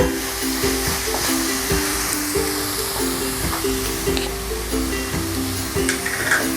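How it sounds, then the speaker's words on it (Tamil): Grated carrot halwa being stirred continuously in a pan over high flame, a steady sizzling and frying hiss with repeated scraping strokes of the spoon, close and fairly loud with no talking. "கொஞ்சம் ஹை ஃப்ளேமில் வச்சு கைவிடாமல் கிளறி விட்டுட்டே இருங்க."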